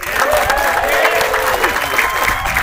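Audience at a high school graduation ceremony in Reno applauding, a dense, even wash of clapping from a large crowd that holds steady and loud throughout without a break.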